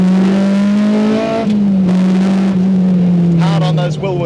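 A K20-swapped Honda EG Civic roars loudly from inside the cabin, a sustained high engine drone that dips briefly at a gear change and climbs again, with a voice talking over it.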